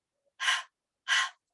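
A voice imitates the breathy letter H sound, two separate hard exhaled huffs like heavy breathing, close and clear against silence, with a faint third breath starting at the end.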